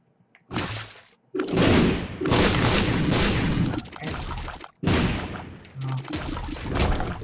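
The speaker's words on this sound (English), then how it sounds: "And destroy some more rocks." Explosions blasting rocks apart in Binding of Isaac: Rebirth, several loud crunching bursts separated by short silences, each with a rumbling tail.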